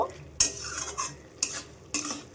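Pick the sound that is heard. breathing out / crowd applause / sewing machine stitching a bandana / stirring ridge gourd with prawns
stirring ridge gourd with prawns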